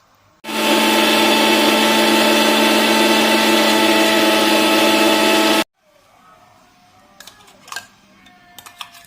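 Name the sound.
electric mixer grinding pudding ingredients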